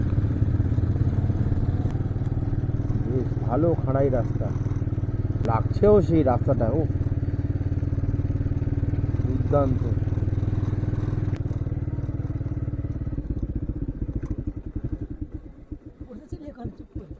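A low-cc motorcycle labors up a steep hill road in North Bengal, its engine a steady, close drone throughout while someone talks over it, the sound thinning out near the end.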